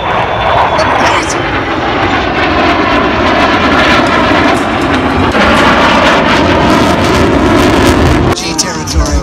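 A loud fighter jet roars past low at an air show with its tailhook deployed, its engine noise building and sustaining for several seconds before dropping away, while a commentator talks excitedly over it.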